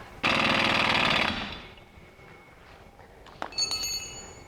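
Impact or power tool rattles loudly for about a second while tightening a bolt on the suspension of a 1998 BMW 3-Series, then stops, followed by faint metallic clinks.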